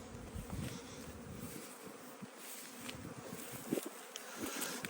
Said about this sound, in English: clusters of bees on the front